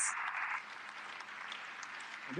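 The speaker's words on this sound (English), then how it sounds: "they're all clapping here" An audience claps after a political speech about defending democracy in Europe, a faint, distant patter of many hands heard thinly as if through a broadcast, steady throughout the brief stretch.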